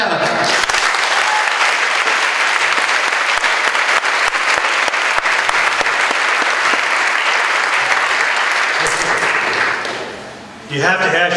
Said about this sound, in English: why do you applaud before you hear what I have to say?